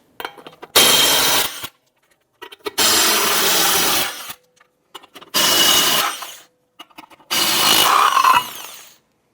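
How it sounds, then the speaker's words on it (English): A power tool with a 21mm socket spins off the lug nuts of a 2007-2012 Nissan Versa wheel in four loud whirring bursts, each lasting about a second with brief silences between. "Using a 21mm socket, you want to go ahead, loosen and remove the lug nuts."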